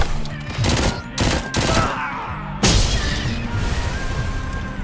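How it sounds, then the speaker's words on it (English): Grenade blast in the RoboCop video game amid rapid gunfire bursts, loud close explosions and crackling shots with a heavy boom near the end and a lingering rumble. "Was that a grenade?"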